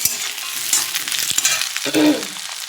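Potatoes frying in a pan for a Bengali fish curry meal, with a close, steady sizzle, a few sharp spatula knocks and a brief louder burst of frying near the end, and no voices.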